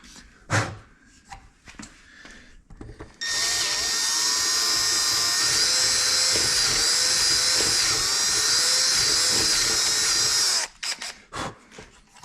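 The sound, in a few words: drill widening a hole in metal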